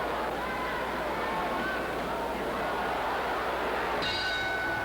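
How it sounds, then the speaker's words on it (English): A boxing round bell rings near the end, a clear metallic tone that follows a long stretch of noisy arena crowd. "And there's the bell."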